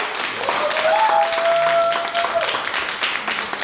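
An audience at a panel discussion event applauds, a dense continuous wash of clapping heard up close while a voice speaks or sings briefly over it.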